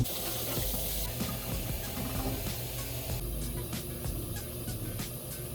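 Tap water runs steadily into a water bottle being filled at a sink, a continuous close hiss and splash with no talking.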